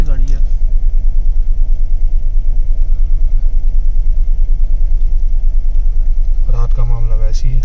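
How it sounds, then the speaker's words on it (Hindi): A car with Rajasthan plates slides left and right on snow at night near Tungnath, its engine giving a steady low rumble throughout while voices talk at the start and end. "देखो स्लिप हो रही है, लेफ्ट राइट हो रही है गाड़ी"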